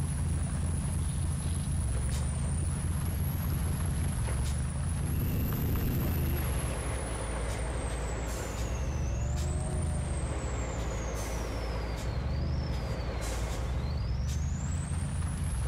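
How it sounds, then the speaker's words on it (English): Air brakes on a truck in a driving video game hiss and sigh over a loud, continuous low diesel engine rumble, with a high whining tone sweeping up and down throughout. "I love the sound of the air brakes on this."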